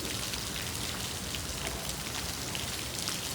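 Heavy rain pours down steadily, an unbroken dense hiss of drops striking surfaces close by, alone with no voices.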